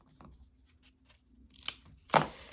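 Scissors snip through paper or card in a quiet craft setting, with a faint cut around the middle followed by one louder, crisp snip near the end.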